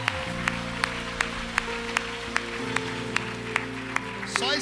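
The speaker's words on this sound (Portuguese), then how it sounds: "você pode aplaudir a Jesus" A church congregation claps in a steady, even rhythm over sustained worship music, the sharp claps landing regularly about every half second throughout.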